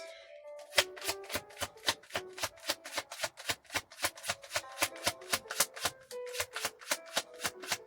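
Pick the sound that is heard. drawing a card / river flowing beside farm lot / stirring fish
drawing a card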